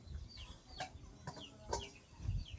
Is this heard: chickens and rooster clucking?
yes